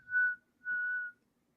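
A person whistles two clear, short melodic notes of a pop tune, the first brief and the second held a bit longer, close and fairly quiet against near silence.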